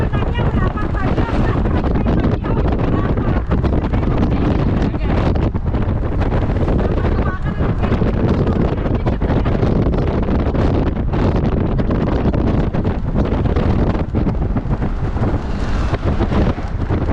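Strong wind buffeting near a mountain in Bonggabon, a loud, continuous roar and rumble with gusty microphone buffeting throughout, close and dominant.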